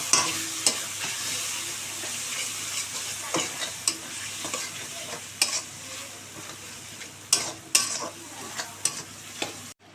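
Eggplant curry frying in fish oil with salt and turmeric is stirred in a pan: irregular spatula scrapes and clacks land over a soft, steady sizzle, close by and with no talking.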